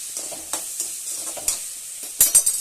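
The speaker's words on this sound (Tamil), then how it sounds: "காயப்பொடி தேவையான அளவுக்கு உப்பு போட்டு மிக்ஸ் பண்ணுறேன்" Spice powder and salt being stirred into a pan of cooking tomato curry, with short scraping strokes of a spoon over a soft sizzle, close and alone with no talk.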